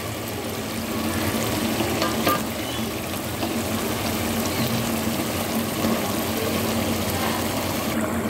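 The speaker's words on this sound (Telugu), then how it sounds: "వేసుకొని బాగా మసాలా పట్టేలాగా కలబెట్టాలి మష్రూమ్కి అంతా." Mushrooms being stirred into masala in a frying pan, giving a steady, close sizzle and wet frying crackle with faint scraping for the whole stretch, no voices.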